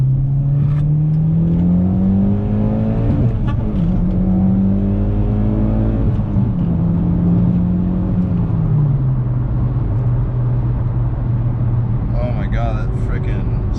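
A Mitsubishi Lancer Evolution X engine on a stock tune revs up through rising pitches, dropping briefly as gears shift, with a steady loud drone throughout.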